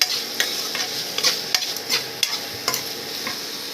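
Oil sizzles and crackles steadily in a pan while tempering spices, with small sharp pops and a spoon stirring now and then; no talking.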